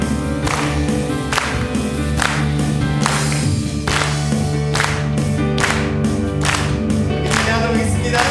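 A church congregation claps in rhythm to a worship song during a Sunday morning service, the even, regular claps running under loud sustained music and singing.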